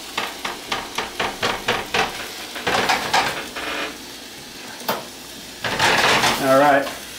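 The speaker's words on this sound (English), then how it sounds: "now we got our shrimp, our beans, our garlic, our chilies, and now we're just kind of cooking it down" Shrimp, beans, garlic and chilies sautéing in a pan, with a run of rhythmic clanks from stirring or tossing, then bursts of sizzling and a short spoken-sounding stretch near the end.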